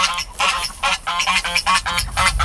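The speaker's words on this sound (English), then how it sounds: "Sorry, the geese are loud." Geese on a small farm honk in a rapid, repeated series of loud, nasal calls, several birds overlapping close by with no one talking.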